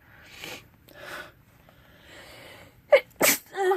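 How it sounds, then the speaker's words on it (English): Two sharp sneezes burst out near the end, loud and close, after a few quieter breaths. "And I have to sneeze, excuse me."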